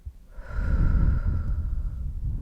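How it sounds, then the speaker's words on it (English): A single deep breath is drawn in and then let out in a long, close, breathy exhale during a hospital allergy exam, soft and airy with no speech over it. "Big deep breath. And exhale."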